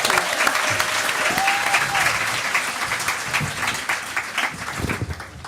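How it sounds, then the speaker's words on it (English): Sustained applause from a conference audience for a panel on Black maternal health, dense and steady for several seconds before thinning toward the end. "Can we have a round of applause for our wonderful panelists?"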